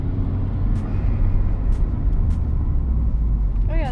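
A Hyundai Genesis Coupe fitted with new Brembo brakes drives along, its steady low engine and road rumble heard from inside the cabin, with a few brief clicks and a short squeal at the end.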